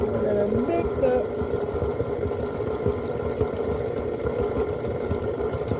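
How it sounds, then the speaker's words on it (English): An electric mixer churning beef, onion, cheese, garlic, Worcestershire sauce and mayonnaise for a cheese ball, giving a steady close motor drone with a voice talking over it. "I'm going to turn on the mixer."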